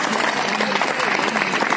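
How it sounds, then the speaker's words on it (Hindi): Loud, dense clapping from a crowd of students and staff at a school farewell party, a continuous roar of hands with no pauses and a faint undertone of voices beneath it. "एक बार जोरदार तालियां बजा दे।"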